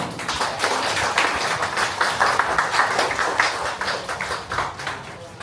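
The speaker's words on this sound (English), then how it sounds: "Please give a round of applause as I welcome Mr." Steady audience applause at a Filipino community gathering in Singapore, welcoming an honorary board member to the stage; dense, continuous clapping at even loudness throughout, with no one speaking over it.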